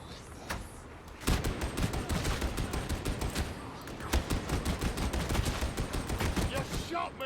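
Rapid gunfire from Warhammer 40,000: Darktide, a dense stream of loud, close shots in quick succession after a few isolated cracks, nearly continuous for several seconds, with a voice speaking underneath.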